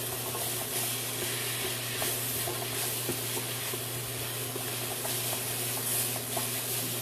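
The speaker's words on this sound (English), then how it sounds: "Really stirring that around." A pot of stock with lime leaves is stirred steadily for several seconds, a soft continuous wet swishing and faint simmering texture over a low kitchen hum, with no talking.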